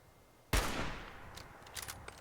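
A single loud sniper rifle shot in Fallout 4 cracks out close by with a long ringing echo, followed by a few fainter distant pops.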